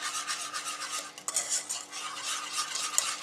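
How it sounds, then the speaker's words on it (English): Melted butter stirred together with sifted cocoa powder and bicarbonate of soda in a bowl for chocolate cake batter, a steady scraping and swishing of a utensil with a brief clink midway, close and alone. "Give it a little mix just until combined."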